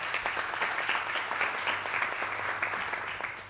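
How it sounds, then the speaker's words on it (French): A television talk-show studio audience applauds steadily and loudly throughout, a dense, even wash of many hands clapping with no pauses. "et on s'applaudit bien fort"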